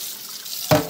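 Running tap water over a freshly ground and seasoned cast iron skillet: quiet sink background, then a sudden rush of water that starts near the end, close and loud.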